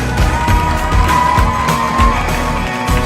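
A studio audience at a French TV season retrospective party cheers and whoops loudly, with crowd noise and shouts filling the whole stretch, continuous and close.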